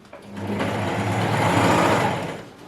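A sewing machine stitching in a design workshop, a close, continuous motor whir with a low hum that builds and then eases off toward the end.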